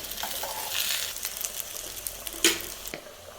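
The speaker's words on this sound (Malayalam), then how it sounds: "ഞാൻ അതിലേക്ക് കറിവേപ്പിലയും കൂടെ ചേർത്ത് കൊടുത്ത് നമുക്കൊന്ന് നന്നായിട്ടൊന്ന് അത് പൊരിച്ചെടുക്കാം" Curry leaves fry in hot oil in a pan, giving a steady crackling sizzle with scattered pops and one sharper crack near the end, close and with no talking.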